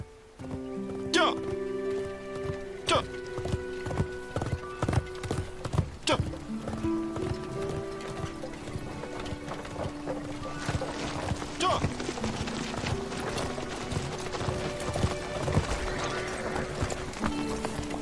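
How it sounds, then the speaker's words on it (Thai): Hooves of a horse-drawn carriage clip-clop in a steady, continuous rhythm in a Chinese period drama, with people talking over the hoofbeats throughout. "มีรถม้าคันหนึ่งตามติดเราตลอดทาง"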